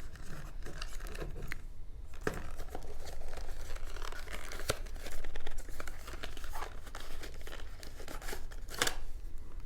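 A Nextorch TA22 tactical pen light is pulled from its packaging, with repeated crinkling and tearing of plastic and cardboard and sharp rustles and snaps at close range, no talking.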